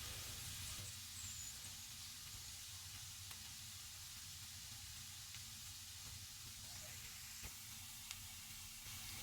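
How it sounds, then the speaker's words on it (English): Quiet, steady sizzling hiss of garlic gently simmering in butter in a pan over low heat, low and continuous throughout with no talking. "Let this garlic cook in here for about 2 minutes."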